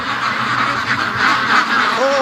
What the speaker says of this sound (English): But the ducks want out really bad.